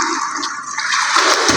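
Water poured into drums at a village in an arid rain-fed region, a steady close rushing splash that swells and gurgles over about a second and a half, with no talk.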